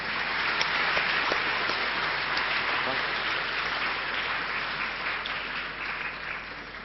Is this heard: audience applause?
yes